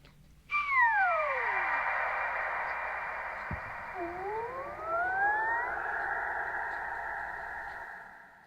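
A whistled tone sent through Logic's Chromaverb reverb with Grain FX granulation, sliding pitch glides that smear into a long shimmering tail, a gliding swoop midway and a faint tick, moderately quiet with no talking.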